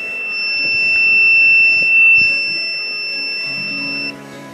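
Alarm buzzer of a fire and smoke telemetry system sounding as a steady high electronic tone lasting about four seconds, then cutting off, with faint mechanical rumble beneath.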